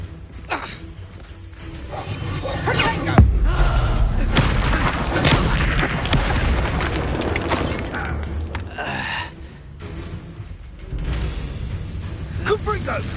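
Confringo blasting spell explosion in the video game Hogwarts Legacy, a heavy boom with rumbling low-end blast sounds and crackling debris. Voices speak over the combat.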